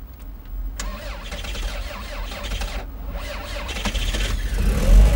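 Toyota Camry starting after a night outdoors at -23 °C: a short starter crank that catches quickly, then the engine settles into a steady idle with a slight rise in revs, close and without talk.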